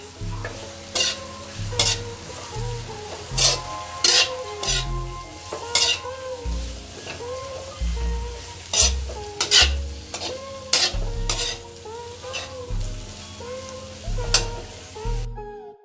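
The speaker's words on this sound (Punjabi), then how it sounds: "ਹੁਣ ਅਸੀਂ ਇਹਨੂੰ ਕਰਦੇ ਆ ਜੀ ਮਿਕਸ ਅਸੀਂ ਇਹਨੂੰ ਵੀ ਥੋੜਾ ਟਾਈਮ ਭੁੰਨਾਂਗੇ ਜੀ" Pasta and shredded cabbage stirred and roasted together in a hot pan, with steady sizzling under repeated scraping utensil strokes against the metal, close and fairly loud throughout.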